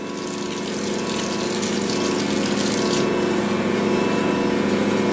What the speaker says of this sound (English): I'm gonna go ahead and wet my hands.